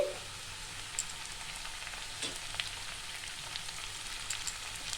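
Cabbage goes into a hot pan of frying chowmein, producing a steady, moderate hiss of sizzling oil throughout with a few faint clicks and scrapes, and no talking.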